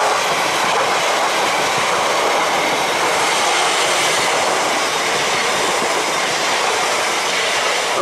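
A class 334 electric train passes through Jordanhill station as a loud, steady roar of wheels and rails close by, continuous throughout with no talking.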